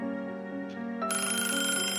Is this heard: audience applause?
no